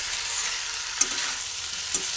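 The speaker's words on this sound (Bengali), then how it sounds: "ভালোভাবে নাড়াচাড়া করে নিলাম।" Papaya being stirred and fried in a pan for a Bengali papaya and puffed-rice ghonto, a steady soft sizzle with two brief utensil scrapes against the pan, no voices.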